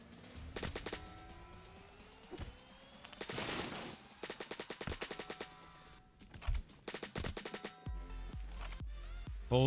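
Light machine gun fire in the Roblox shooter Phantom Forces, heard as repeated loud bursts of rapid automatic shots with brief pauses and a louder burst near the end, no voices.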